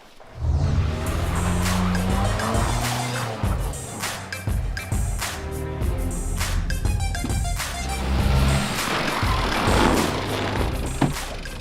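A super powerful, fast RC car fitted with saws on its wheels drives hard, giving loud whining motor revs, rising and falling pitch, harsh grinding clatter and sharp bursts, continuous and close.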